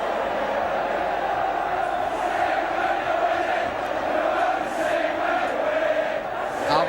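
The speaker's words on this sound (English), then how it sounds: "The Derby crowd responding well." A Derby County football crowd at an FA Cup tie roars and cheers in a sustained, dense wash of voices, while a commentator speaks over it.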